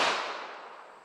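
A single .380 ACP Winchester Silvertip round fired from a pocket pistol outdoors, heard as a sharp report that decays quickly into a fading echo.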